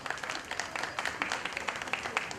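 Light applause from an audience at a coaching class felicitation event, scattered quick claps at a moderate, somewhat distant level that carry on throughout.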